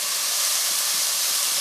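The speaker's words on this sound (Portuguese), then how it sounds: "O pimentão tem que refogar bastante para que ele não fica indigesto" Chopped bell pepper sautés in a pan for a Brazilian tofu vegetable moqueca, giving a loud, even sizzling hiss that holds steady throughout with no speech.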